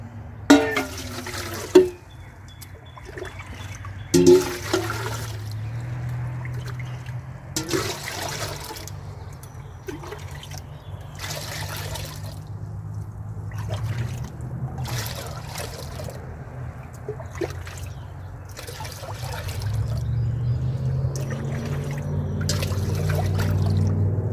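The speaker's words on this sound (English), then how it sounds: "I'm just gonna fill up the pot." Water runs steadily into a pot being filled for backyard maple syrup making, a continuous pouring and trickling rush that swells louder toward the end, with a few knocks and clunks near the start.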